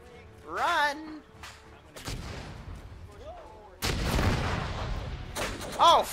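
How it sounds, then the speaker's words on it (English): Heavy artillery shells landing in an Arma 3 World War One trench battle, with deep booming impacts and long rumbling crashes, while voices shout over the barrage. "Artillery! Artillery! More artillery!"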